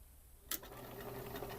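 A sewing machine stitches a fabric seam at a 3/8 seam allowance, a quiet, rapid, even ticking chatter that starts after a brief pause and runs on steadily.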